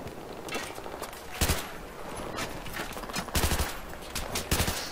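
Bursts of gunfire from the video game Battlefield 3 crack out in rapid volleys, several loud clusters of shots spread across the moment, with faint background game noise between them.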